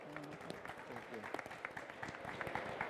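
Audience applause for a panel at a sustainability prize session, a fairly quiet, dense patter of clapping from a seated crowd, with faint voices mixed in.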